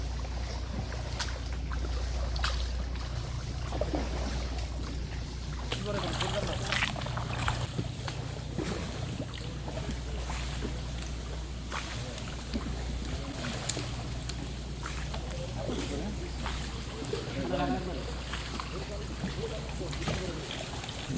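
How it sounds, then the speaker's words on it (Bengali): A wooden rowing boat is pulled with oars on a Sundarbans river in wind, with water splashes and rhythmic dips under a constant low wind rumble while someone talks over it. "নৌকায় যারা বৈঠা পাইছেন"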